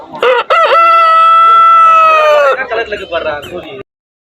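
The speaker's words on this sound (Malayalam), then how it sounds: "കോഴി നോക്കി കൂവിയത് കണ്ടാ" A rooster crows loudly and close by at a park in Yercaud, one long drawn-out call that breaks into a rougher trailing end before cutting off.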